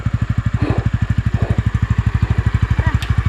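A Honda Winner motorcycle idles and putters through mud at close range, its engine firing in a steady, rapid pulse throughout, with faint voices briefly in the background.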